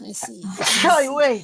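A single short sneeze bursts out in the middle of casual conversation, sitting between spoken words from people talking close to the microphone.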